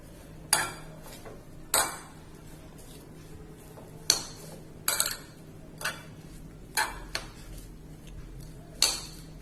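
A spoon lightly mixes rava bonda batter with chillies, coriander, curry leaves and salt in a bowl, giving about eight faint, separate clinks and scrapes against the rim over a quiet room background.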